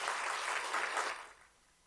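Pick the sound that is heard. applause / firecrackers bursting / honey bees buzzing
applause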